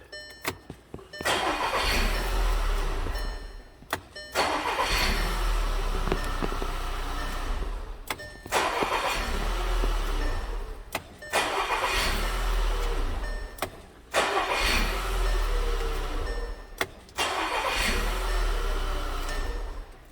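A 2010 Volkswagen Tiguan with an intermittent no-crank fault after a hot soak, its starter cranking from the ignition switch in about six separate bursts of several seconds each, with short pauses between them.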